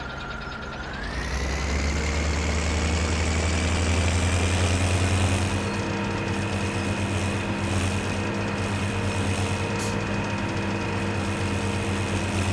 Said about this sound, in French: Écoutez-moi le moteur.